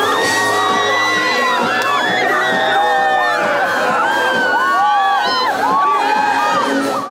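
A concert crowd roars with cheers, whoops and shouts that rise and fall continuously. The sound is loud and dense throughout, with no separate voice standing out from the crowd.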